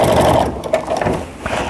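A home sewing machine quilting with a walking foot through a jelly roll tree skirt runs in a steady, fast mechanical whir with rapid needle chatter, close and fairly loud throughout with no talking.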